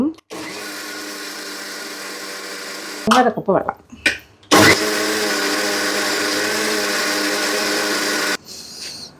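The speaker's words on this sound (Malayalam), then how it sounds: "ഇനി ഇച്ചിരി വെള്ളം ഒഴിച്ചിട്ട് അരച്ചെടുക്കാം" A mixer grinder runs in loud bursts, grinding a sambar paste with water, pausing briefly with clattering in between, while a person speaks near the start.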